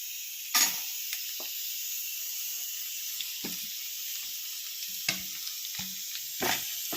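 Onion, garlic, ginger, chillies and cashews sizzle in a little hot oil, a loud continuous frying hiss broken by several scraping stirs of a spoon in the pan.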